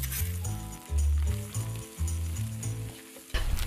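Dried pork skin stir-fried in a wok of hot sand for a Hakka festival dish crackles and sizzles in loud, uneven bursts, with the scrape of stirring under it.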